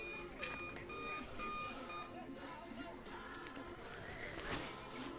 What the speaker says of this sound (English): There goes my alarm.